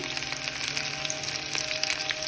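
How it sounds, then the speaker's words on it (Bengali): Onions frying in a pan for a Bengali fish chorchori, a steady close hiss of sizzling oil with a few soft stirring scrapes and no talk. "এবার আমি কিছু পেঁয়াজটা দিয়ে দিচ্ছি একটু নেড়ে নিয়ে"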